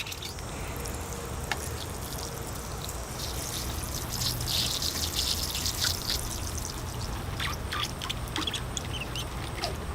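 Water is poured onto sand in a bonsai pot, giving a continuous soft trickling, fizzing hiss with scattered drips and crackles, close and steady throughout with no voices.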